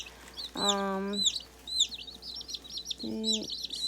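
Young chicks in a brooder under a heat lamp give repeated high, thin peeps and chirps throughout, mixed with a few lower fowl-like calls, close by and fairly clear.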